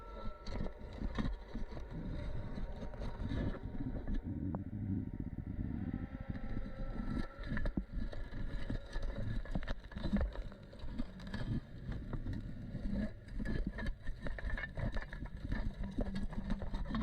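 A boat engine rumbles and churns underwater, a muffled, uneven drone with bursts of exhaust bubbling as power rises and falls.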